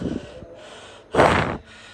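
Heavy, labored breathing of a person winded from climbing stairs, a few ragged inhales and exhales close to the ear, with one loud gasping breath standing out near the middle.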